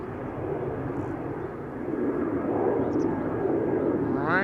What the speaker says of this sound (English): narrow bodies that are taking off from the center runway